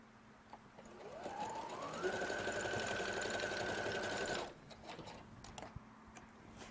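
A sewing machine stitching pieces of a quilt block together. The motor whirs up to a fast, steady hum that carries for several seconds and then cuts off abruptly, with faint handling clicks afterward and no talking.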